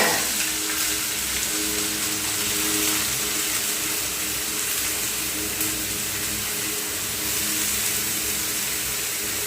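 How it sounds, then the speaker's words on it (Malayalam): Grated breadfruit, with turmeric, hits a pan of popped mustard seeds for a Kerala-style thoran, giving a steady, bright, close sizzle that hisses without a break and with no talk. "കടുക് പൊട്ടിയതിലേക്ക് ഞാൻ ചീമച്ചക്ക തിരുമ്മി വെച്ചിരിക്കുന്നത് ഞാൻ ഇട്ട് കൊടുക്കുകയാണ്"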